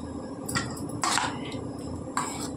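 Marinade with ground black pepper being mixed in a bowl: three short clinks and scrapes of a utensil against the bowl, close and fairly loud, with no talking.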